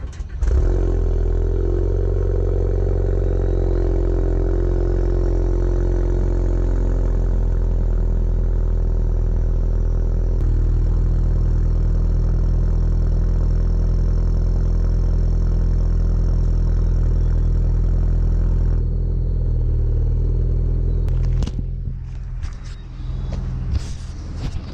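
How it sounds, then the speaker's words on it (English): Ford Focus car engine cold-started and left idling, a loud, steady low rumble held close to the microphone for about twenty seconds before it cuts off and is followed by brief scattered noises. "I'm gonna do a cold start on the Focus here"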